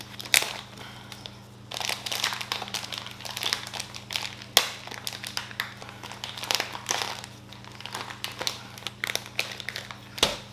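Crinkling and crushing of an 8-ounce plastic packet of medicated fish food, irregular close crackly bursts coming and going with brief pauses, no talking.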